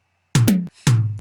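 A reggaeton beat played alone, with a few close, punchy drum hits: a deep kick, a quick snare snap and another kick, in the familiar syncopated pattern.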